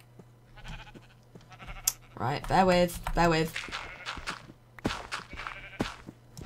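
Sheep in Minecraft bleat in a run of wavering, nasal calls near a pen, over faint clicking and game ambience. Someone speaks briefly during the bleats.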